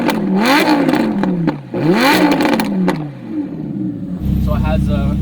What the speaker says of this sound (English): I'm gonna let y'all hear a couple revs